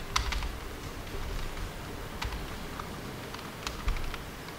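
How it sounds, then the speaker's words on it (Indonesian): Light keyboard typing with scattered clicks and short bursts of keystrokes, faint and soft against a quiet room background, with no speech. "Ini saya ketik dulu."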